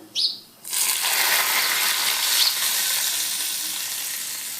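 Spices crackle and sizzle loudly in hot oil for a fasting-day koshimbir tempering, a sudden burst after a brief sputter that settles into a dense, steady fry, close up and without speech.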